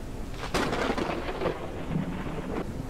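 Thunder from a lightning storm in a survival building game rumbles through a few broad, noisy swells, with a sharp crack near the start and a fainter roll toward the end, fairly loud with no talking.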